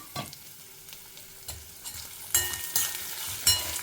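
Sesame seeds, dried red chillies, ginger and tamarind dry-roast in a pan, heard as a soft sizzle with rustling stirs and a few sharper scraping clatters, close by and with no speech.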